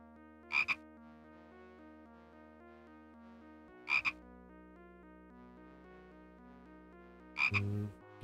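A frog in the video game Simon the Sorcerer croaks three times at spaced intervals, each a sharp double croak, over soft, sustained game music.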